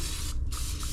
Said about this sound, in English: I'm gonna use this cooking spray and just grease the inside